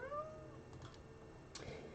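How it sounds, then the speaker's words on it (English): A house cat meows faintly in the background, a few soft drawn-out calls early on with a low room hum under them. "One of my kitties is talking to us down there about something"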